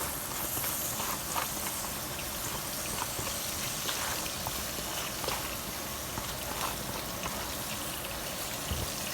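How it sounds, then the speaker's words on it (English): Sweet potatoes sizzle in a hot pan in a home kitchen during Southern Sunday meal cooking, a steady crackling hiss of frying that holds without a break throughout, fairly loud and close, with no talking. "Hear that sizzle? That's that hot pan, y'all."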